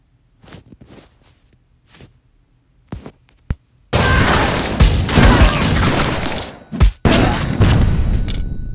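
Video game combat in Dead Ahead: Zombie Warfare opens with a few scattered thumps and clicks, then erupts into a loud, sustained burst of gunfire and explosions, including a grenade blast, with one brief drop before the barrage resumes.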